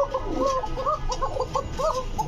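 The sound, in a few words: chicken call at a pigeon market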